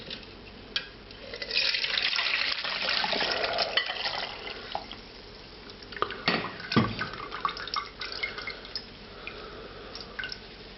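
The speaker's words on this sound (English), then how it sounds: "this has to go through the strainer and then a fat separator" Cooking liquid from a lamb bhuna curry pours through a strainer into a fat separator, giving a close, steady trickling splash that thins into scattered drips and small clinks of metal and glass.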